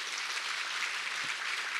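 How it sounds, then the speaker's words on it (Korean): Applause from a church congregation at a Sunday worship service welcoming first-time visitors, a steady, even wash of clapping throughout, moderately quiet and without speech. "너무나 잘 오셨다고 마음을 담아서 박수 한번 쳐주시면"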